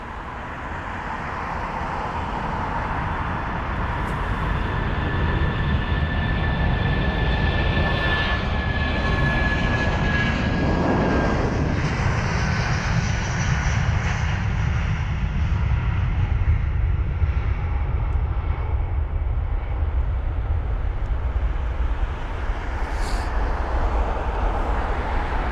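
A British Airways Airbus A319 jet departs London Heathrow with a loud, close, steady engine roar that swells early and then holds a sustained rumble with a faint whine, without any talking.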